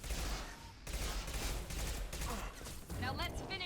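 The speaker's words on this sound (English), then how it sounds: "I have to go to my submachine gun here." Rapid automatic gunfire in the Mass Effect 2 shooter, a dense continuous burst of submachine gun shots mixed with other combat noise and explosions, loud and sustained throughout, with someone talking over the action.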